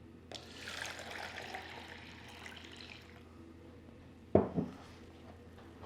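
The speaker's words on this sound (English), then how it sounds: "pour into the bottle with a funnel" Kombucha is poured through a funnel into a bottle in a soft, quiet trickle lasting a few seconds, followed by a couple of sharper knocks and splashes.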